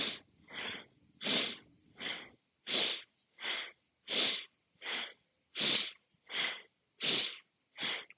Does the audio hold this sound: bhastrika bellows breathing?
yes